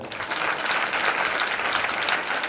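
A church congregation at an annual anniversary celebration breaks into loud, sustained applause, a dense burst of clapping lasting a couple of seconds with no speech over it.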